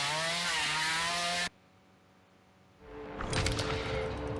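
A chainsaw in The Texas Chain Saw Massacre video game revs with a loud, buzzing, steady drone for about a second and a half, drops out abruptly, then returns as a rougher, noisier burst mixed with other game sounds.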